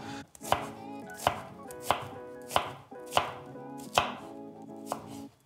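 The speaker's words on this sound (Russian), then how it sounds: "И нарезаем лук на четверть кольца." An onion being cut into quarter rings with a knife on a board, seven or eight evenly spaced, crisp chopping thuds, close and clear, with no talking.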